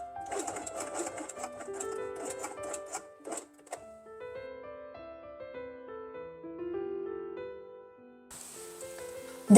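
Sewing machine stitching fabric pieces for a Christmas quiet book, its rapid whirring runs start and stop in short bursts amid soft handling sounds, with a louder burst of stitching near the end.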